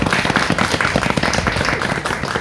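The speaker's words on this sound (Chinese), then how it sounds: "掌声鼓励鼓励" Concert audience at a clarinet ensemble performance giving a burst of applause, dense close clapping from many hands, loud and sustained across the moment.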